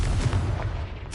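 A Confringo fire-blast spell cast in a Hogwarts video game bursts with a loud, rumbling boom that rolls on for about a second, with a sharp crack flaring again at the end.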